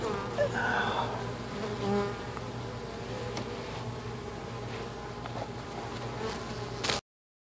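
Honeybees hum steadily during a cut-out removal of a colony in Haines City, Florida, a dense continuous drone from a crowd of bees that cuts off abruptly at the end.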